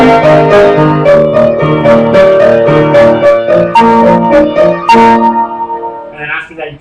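Piano plays the left-hand part of a song alone, a steady stream of repeated low and mid notes in an even rhythm, close and clear, fading out at the end.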